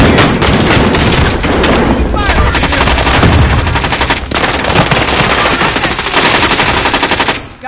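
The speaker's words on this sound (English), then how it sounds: "I'm taking fire." Gunfire in the Warzone video game: loud, sustained machine-gun bursts with booming shots and rattling fusillades, nearly continuous with only short gaps.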